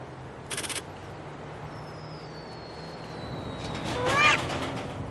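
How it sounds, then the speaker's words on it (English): Cats meowing during a cat food commercial, a few faint high cries near the end over a low steady background hum, with a brief rattling burst early on. "These cats are totally ruining the experiment."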